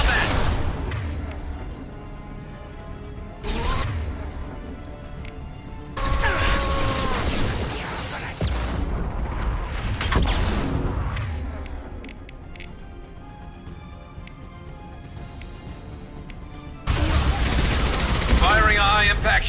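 Heavy weapon blasts and bursts of gunfire from a Mass Effect 2 firefight, loud and close, with sharp booming shots breaking through a dense layer of game effects and music.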